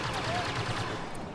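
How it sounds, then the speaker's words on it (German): Rapid blaster rifle shots in the video game Star Wars Battlefront, a quick burst of several sharp reports under German-speaking players talking over the action. "Die macht immer 5 Schüsse, die hier."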